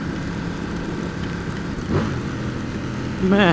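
Rumbling engine of a 2016 Ducati XDiavel motorcycle downshifting during a test ride in pouring rain, heard up close with rising and falling revs under rain and wind noise while someone speaks briefly.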